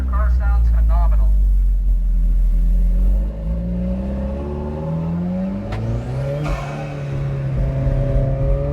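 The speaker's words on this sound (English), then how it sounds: "Sir, your car sounds phenomenal." A powerful Corvette C8 Z06 engine revs and drones on a track lap, its pitch rising and falling through gear changes, with a person speaking briefly over it at the start.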